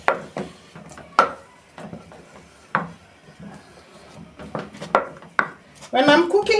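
A wooden spoon stirs and scrapes thick ugali in a cooking pot, giving several separate rubbing, knocking strokes at an uneven pace, close and clear, ending in a brief busier scraping burst.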